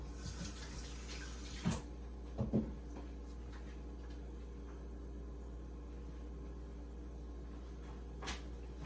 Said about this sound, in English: Let me go ahead and wash my little hands